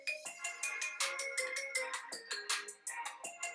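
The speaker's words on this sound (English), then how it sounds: "My phone just went off" A phone ringtone plays alone: a bright, repeating melodic pattern of quick electronic notes that keeps going at a steady, moderate volume.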